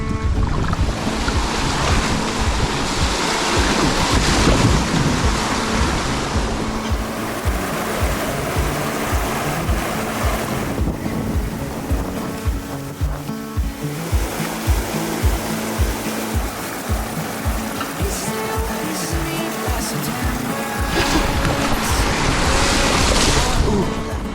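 Kayaks paddling through a river rapid on the Devils River, with a steady loud roar of rushing whitewater and wind buffeting the microphone the whole way through, and no clear voices.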